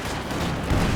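Soviet mortar fire in Company of Heroes 2, a single loud, dense, rumbling boom filling the whole second, with no talk.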